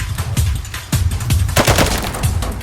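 M96 rifle gunshots in the video game Arena Breakout: several sharp, loud single shots spaced irregularly over a few seconds, close and alone without talk.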